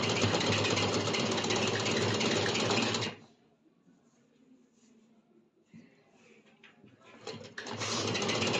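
A sewing machine stitches a salwar in two loud, steady bursts at the start and end, close by, with a quiet pause between them where faint handling sounds are heard.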